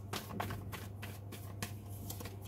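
Tarot cards are drawn and handled from a deck, with a series of soft papery slides and flicks over a steady low hum, close and fairly quiet, with no talking.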